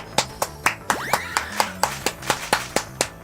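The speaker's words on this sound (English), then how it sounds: "We're clapping" A small group of people clapping together in a steady, even rhythm of sharp claps, close and fairly loud, with brief excited vocal sounds mixed in.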